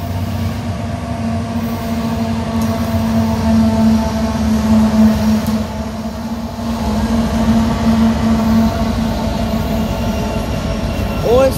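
Union Pacific ET44AH 2601 locomotive leading a military train through downtown El Paso, Texas, passing close and loud with a continuous rolling rumble, wheel clatter and a sustained squealing tone, with brief voices in the background.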